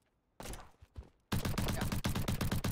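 Bursts of rapid gunfire crackle in quick succession in Roblox's Ruddev's Battle Royale, a short scattered volley followed by a louder, sustained string of shots.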